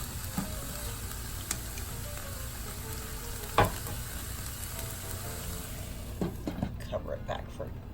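Vegetables frying and browning in a pan for a vegan breakfast scramble, a steady sizzle throughout with a few sharp stirring clatters and light scraping toward the end.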